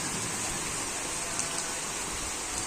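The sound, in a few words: rain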